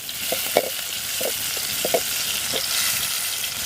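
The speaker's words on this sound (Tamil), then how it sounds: "இப்போ வந்து பச்சை மிளகாய் வந்து லைட்டாக தூவி விட்டுக்கலாம் வந்து லைட்டாக வந்து கிண்டிக்கலாம்" Green chillies stirred in hot ghee with a steady high sizzle, a spoon scraping the pan in several soft knocks and strokes, close by with no voices.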